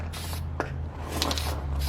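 Spray paint hissing steadily onto an intake manifold during a restoration, close and continuous over a low background hum, with a brief louder burst partway through.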